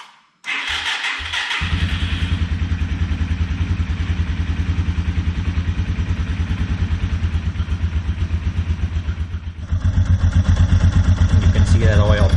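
A Yamaha TW200 motorcycle engine fires up after a brief crank and settles into a steady, close, loud single-cylinder idle with a rhythmic thumping, briefly dipping before revving slightly higher near the end.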